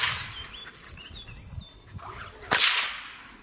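A whip cracked with the Queensland Crossover technique: soft swishing passes lead up to one loud, sharp, close crack near the end, with no talking.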